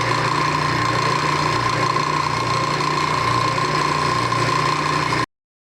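A small engine runs at a steady, unbroken idle with a constant hum and buzz, close and moderately loud, then cuts off abruptly at the end.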